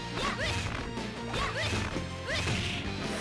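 Rapid punches, kicks and crashing hit effects from King of Fighters 98 during a tournament match, packed densely over the game's background music.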